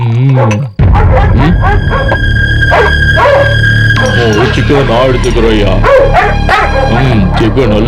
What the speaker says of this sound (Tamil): என்ன ஏங்க நாய் அது